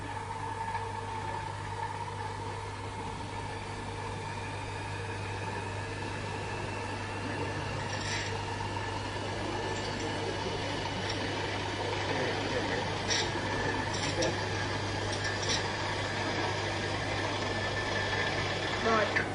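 A gyroscope spun up to about 2,000 revolutions per minute gives a steady, continuous mechanical hum with a low drone and faint higher whine, while people talk over it throughout.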